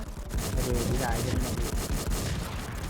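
Dense, continuous gunfire from a shooting video game hammers away in a rapid, regular rhythm, loud and close throughout, with a voice talking over it.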